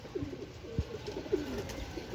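Racing pigeons arriving during training near Urdaneta, Pangasinan coo softly in a few short low calls, faint against a background hiss.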